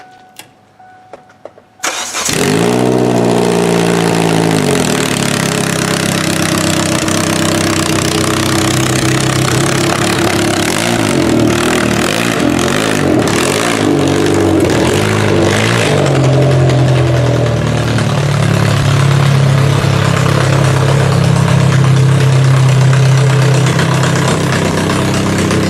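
A car engine fitted with a new header cranks and catches, then runs at a loud, rough idle with revs that rise and settle. The exhaust note is close and dominant throughout.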